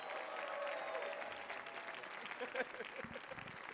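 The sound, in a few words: audience clapping hands for comedian Reese Waters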